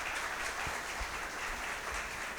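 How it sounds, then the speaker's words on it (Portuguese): A church congregation at a tenth-anniversary service in Recife applauds, a dense, even patter of many hands clapping at moderate distance throughout, with no talk over it. "Eu queria uma salva de palmas para o Bispo Schuller."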